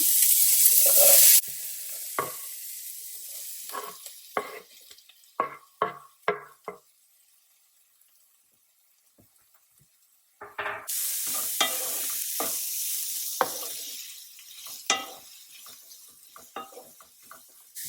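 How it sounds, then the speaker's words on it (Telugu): Chopped onions and seasoning seeds sizzle in a non-toxic Our Place pan, a steady frying hiss broken by sharp clinks and scrapes of a spatula stirring, with a quieter stretch midway before the loud sizzle returns. "అండ్ ఆనియన్స్ యాడ్ చేస్తున్నా."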